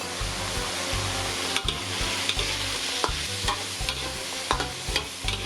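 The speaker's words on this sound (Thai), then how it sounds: "ผัดนะคะทุกอย่างให้เข้ากันนะคะ" Long beans and pork stir-fry in a pan, a soft continuous sizzle broken by rhythmic scraping and tossing strokes of the spatula, close up and alone.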